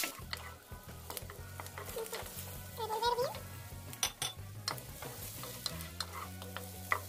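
Garlic frying in a pan with softened onion, a continuous sizzle broken by spoon scrapes and clicks against the pan, with a brief bit of other sound in the middle.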